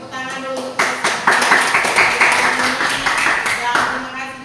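A classroom group applauding, a burst of brisk clapping that starts after a moment of talk and continues evenly for a few seconds before tapering off.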